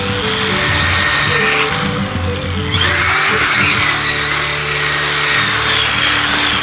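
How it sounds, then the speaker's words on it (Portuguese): Loud, continuous grinding and scraping of round timber turning on a wood lathe, with a brief shift in tone midway before the cutting resumes. "Agora a gente vai usar o torno."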